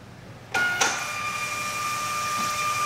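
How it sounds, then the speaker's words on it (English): Zebra label printer printing, a sudden start followed by a steady high whirring feed that runs evenly for a couple of seconds, close and clear with no talk. "And if you can hear the printer, it's actually working."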